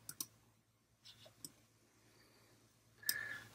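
A computer mouse clicks a few times, faint and close, with crisp isolated taps spread across a quiet background and a final click followed by a brief soft tone.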